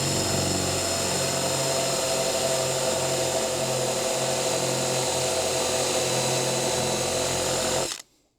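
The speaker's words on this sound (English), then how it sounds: "the Forstner bit should track pretty well over those" A Forstner bit bores steadily into material for a Jeep seat-delete platform, a loud, continuous power-drill whine that holds for about eight seconds and then stops abruptly.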